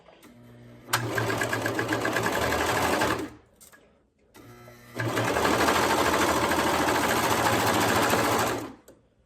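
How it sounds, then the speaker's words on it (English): A serger sewing machine with its blade engaged stitches the side seam of a ribbed-neckline garment, running in two loud, steady whirring bursts separated by a short pause. "So right now I'm doing the side seam. I'm going to leave my blade engaged."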